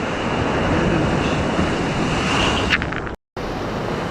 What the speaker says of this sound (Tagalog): Lalaki po yung alon dito